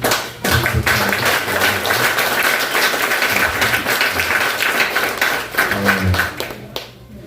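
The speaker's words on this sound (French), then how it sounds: "et puis nous avons un applaudissement pour moi." A church congregation claps in a loud, close round of applause with sharp individual hand claps, over a low background hum, ending abruptly.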